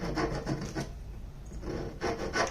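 Steady back-and-forth rasping of sandpaper on a wooden mandocello cutout, a rhythmic close-up rubbing with short strokes and no voices.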